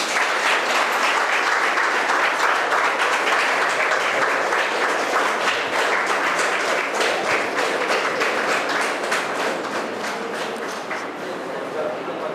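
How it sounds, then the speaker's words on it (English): Sustained applause from a school gathering welcoming outgoing students, dense steady clapping throughout that thins slightly toward the end, with some voices mixed in. "So let's welcome them with a huge round of applause."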